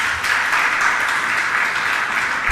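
Audience clapping during a Jain religious sermon, a steady, even wash of applause with no speech over it.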